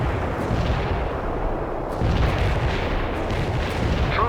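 Bomb strike explosions in the World in Conflict strategy game, a dense, loud rumble of booming blasts that continues throughout and swells again partway through, with no talk.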